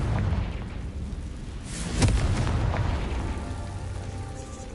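A Confringo explosion spell in a Harry Potter video game, a deep booming blast with a sharp crack in the middle, then a rumbling tail over low background noise.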